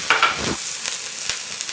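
Scallions frying in hot vegetable oil for kimchi fried rice, with an even sizzle, a couple of sharp spatters near the start and light taps of a utensil.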